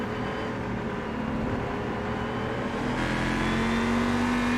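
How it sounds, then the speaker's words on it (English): Two Mazda race cars battle for position on the Indianapolis road course in the iRacing sim, engines droning steadily with a rising whine as one car accelerates near the end. "Just approaches the back of two Mazdas fighting for position."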